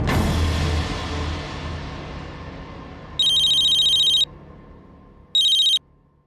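A telephone rings on the line as a call is placed, sounding two electronic ringback tones, the first about a second long and the second shorter, clear against a quiet fading background with no speech.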